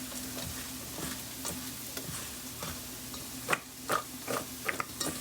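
Onions frying in a pan beside pork chops and fried potatoes in a home kitchen, a quiet steady sizzle broken by soft intermittent scrapes and taps of a stirring utensil, with a low hum underneath.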